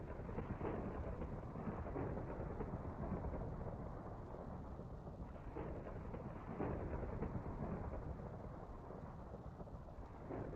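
A Minecraft thunderstorm gives a steady, dense roar of rain with deep rumbling thunder throughout, rolling on and on at a fairly quiet level.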